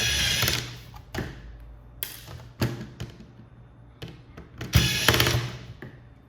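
Screws taken out of the metal display plates during a teardown of an Asus Chromebook: close, intermittent clicks, taps and brief whirring bursts from a small screwdriver, with no talk.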